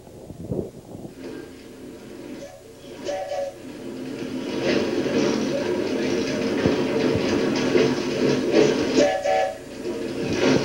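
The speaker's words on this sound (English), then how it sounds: "This is where the freight starts to grind when he's pulling a heavy train up here." A heavy freight train rumbles and grinds steadily up a 3% grade, growing louder as it labors along, with metallic squeals and clatter layered over the low drone.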